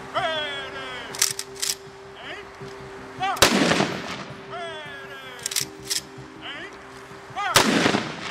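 Two loud, booming volleys of a 21-gun salute at an outdoor funeral ring out about four seconds apart, each echoing briefly, with faint voices and sounds in between.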